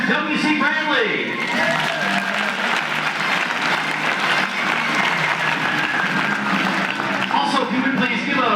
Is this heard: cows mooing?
no